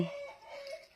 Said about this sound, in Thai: เสียงไก่ขันแล้ว เสียงไก่ขันแล้ว